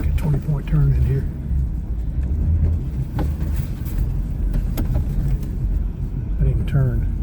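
A four-wheel-drive car turning and reversing through snowy woods during a snowstorm, its engine a steady low rumble close by, with a voice talking over it at intervals.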